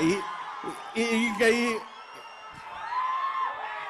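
Crowd of students at a film song launch event whooping, shouting and cheering, bursts of loud yells rising and falling in the background around someone speaking into a microphone.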